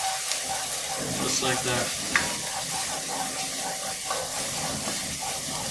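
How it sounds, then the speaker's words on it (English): Chopped onions sautéing in a hot pan for meatballs: a steady loud sizzle and hiss with a few stirring scrapes, while a person speaks briefly over it. "You're going to let this saute for about 3-4 minutes"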